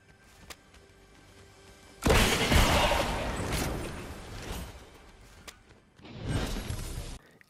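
Piles of boxes smash apart in Fortnite: a loud crunching, splintering burst lasting a few seconds over quiet background, then a second shorter breaking crash after a brief lull.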